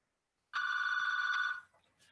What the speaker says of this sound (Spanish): me llama el teléfono